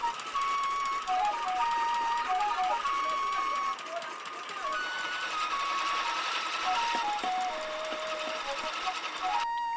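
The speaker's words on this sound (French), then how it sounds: "Ajoutez le fretin et moudre enfin le mélange de tout." A mill grinds a mixture of soybeans and small fish into flour, giving a steady, loud mechanical drone that runs throughout with a voice over it.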